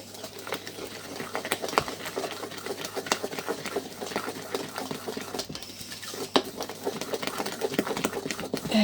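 Lemon and almond cake batter being mixed in a bowl makes a steady, close whirring and scraping that runs unbroken and stays fairly quiet, with faint clinks and no talking.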